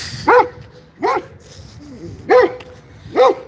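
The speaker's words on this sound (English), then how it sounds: "that's the neighbor's dog." A neighbour's dog barks four times in an even rhythm. The barks are sharp and fairly close, with a soft whine between them.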